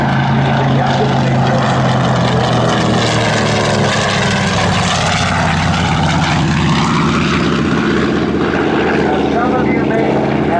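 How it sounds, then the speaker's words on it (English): Piston engine of a TBM Avenger torpedo bomber roars loud and steady at an Air National Guard open house airshow, a dense propeller drone that shifts slightly in pitch as the plane passes, with no pause throughout. "Some of you may have heard similar sounds from engines from other airplanes in the past."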